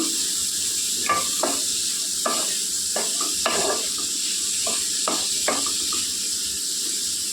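Malabar spinach leaves stir-frying with chillies, turmeric and salt in a pan, a steady sizzle broken by repeated scraping stirs at irregular intervals, close and alone.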